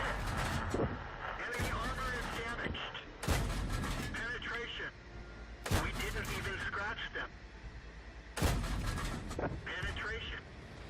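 In World of Tanks, tank cannons fire four heavy booming shots spaced a few seconds apart, each followed by a rumbling decay, set against engine noise and someone talking.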